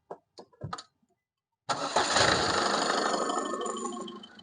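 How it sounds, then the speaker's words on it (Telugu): A 2015 Ford Ecosport diesel engine starts after a few short clicks and ticks, catching at once with a loud, close crank and settling into a rough, steady idle that gradually fades. "एक्सीलेटर फिर चालू करो भैया."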